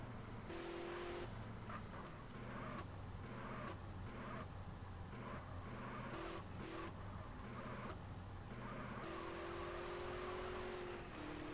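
Engine drone of a car driven in the video game GTA San Andreas multiplayer (SA:MP), a steady loud hum with shifting revs and gear changes running continuously without pauses.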